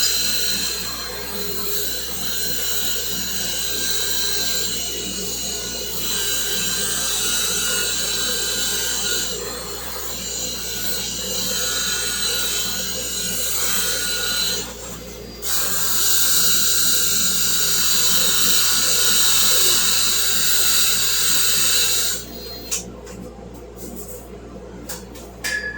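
A stainless steel light bar is sanded with sandpaper on a power sander, making a loud, steady, close whine-like grinding. The sound runs in long bursts with brief pauses between them.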